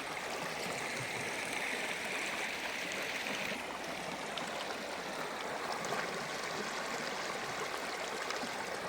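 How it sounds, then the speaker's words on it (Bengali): A mountain river flows just before the monsoon rains, a steady close rushing and gurgling of water that continues evenly throughout with no voices. "ভালো লাগছে জলের আওয়াজটা মনকে একদম শান্তও করে দেয়"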